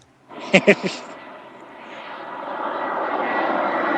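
A fixed-wing airplane passes overhead, and its engine rumble builds steadily from faint to fairly loud after a few short knocks at the start.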